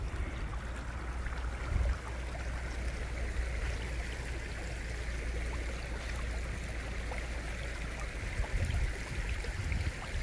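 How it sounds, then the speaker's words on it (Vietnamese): A stream runs through hillside farmland, giving a steady broad rushing and gurgling wash of water that holds at an even level throughout, with no voices. "Một con suối nữa lại đi giữa cái lô rẫy của mình luôn này."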